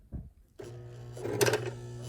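A sewing machine starts up after a small click to sew a quarter-inch quilting seam, a brief steady mechanical whir close by that swells slightly near the end.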